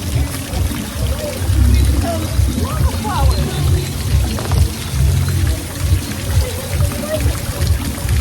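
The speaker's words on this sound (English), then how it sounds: "let's see how wet you get on the splashy splash part." Water splashes and trickles along the splash section of a lazy river at a cruise stop in Puerto Plata, a steady wash of pouring and dripping with a low rumble, close by and continuous.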